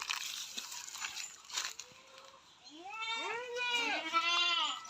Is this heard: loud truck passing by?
no